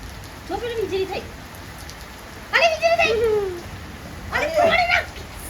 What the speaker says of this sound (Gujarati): બા વરસાદ પડ્યો